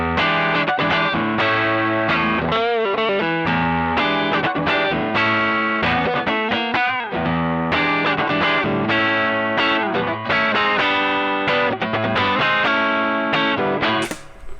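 Electric guitar played through a Strymon Sunset overdrive with drive and tone turned down, giving a mild bluesy crunch; steady chords and single-note phrases ring out continuously and up close for the whole stretch, with no one talking.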